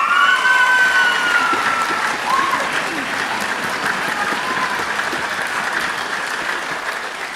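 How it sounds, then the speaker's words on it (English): A concert audience at a youth Philharmonster concert applauds teachers, parents and crew with steady, full clapping that holds at an even level for the whole stretch and eases slightly toward the end. "Just give them a round of applause for everything they do for us."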